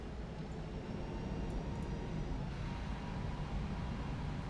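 Jet engines of a PMDG 737-800 in a flight simulator spool up at the start of a takeoff, a faint, steady rumbling whine with no voices over it.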